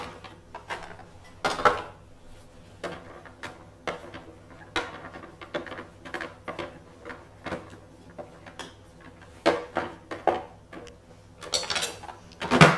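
Metal pot lid lifted and a spoon stirring a mushroom bolognese ragu, giving a run of close clinks, scrapes and knocks in an irregular rhythm, with no talking.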